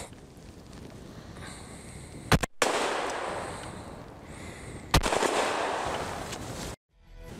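Two sharp, loud shotgun blasts with 40-gram cartridges ring out at targets a few seconds apart. Each is followed by a long echoing rumble over faint outdoor background noise.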